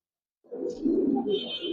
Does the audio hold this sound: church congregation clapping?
no